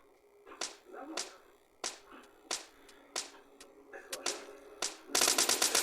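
Sharp, separate gunshots in PUBG Mobile Lite crack at irregular intervals, then end in a quick burst of rapid automatic fire. No one speaks.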